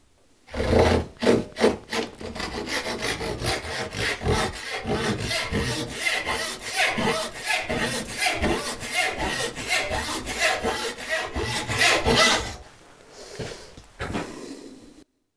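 A hand saw cutting through wood, rhythmic back-and-forth rasping strokes at a steady quick pace, close and fairly loud, for about twelve seconds before stopping and leaving a few faint handling sounds.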